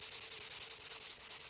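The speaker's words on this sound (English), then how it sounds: "this is a super fine sanding block" Fine 120-grit sanding block rubbing across a glass planter, a steady close scratchy hiss with rhythmic back-and-forth strokes throughout.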